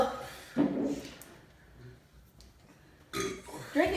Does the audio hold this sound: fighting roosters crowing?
no